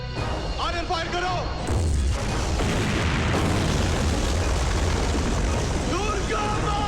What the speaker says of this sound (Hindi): आर्यन फायर करो।